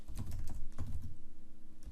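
Rapid typing on a computer keyboard, a steady run of close, crisp key clicks with no talking.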